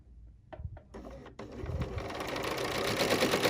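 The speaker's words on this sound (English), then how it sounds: "So I'm going to start by lowering my presser foot down and bringing up my needle and thread" A sewing machine starts with a few single needle thumps, then runs into a steady, accelerating stitching whir while making a Christmas tree ornament.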